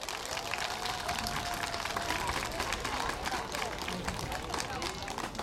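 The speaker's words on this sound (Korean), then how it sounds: "다시 크게 한번 박수 칠까요?" A large church-hall audience claps steadily and densely to welcome a visiting performance team from Saebyeok Iseul Church, a continuous wash of many hands with no breaks, and crowd murmur mixed in.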